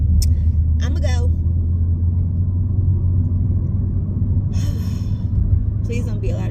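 A car drives along a highway, its steady low engine and road rumble continuous and close throughout, with brief voice sounds from inside the car.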